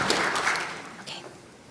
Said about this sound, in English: Let's round of applause for Larissa